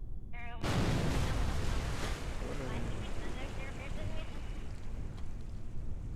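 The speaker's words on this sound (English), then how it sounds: "Splashes" A craft in the video game Kerbal splashes down into water: an abrupt, loud rush of churning water bursts in and keeps washing on as a steady, wind-like roar to the end.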